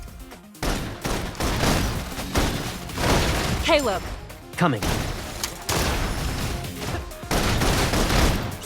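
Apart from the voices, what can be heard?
suppression gunfire in a video game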